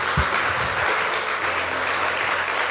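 A church congregation claps steadily together in a dense, continuous burst of applause, close and fairly loud throughout.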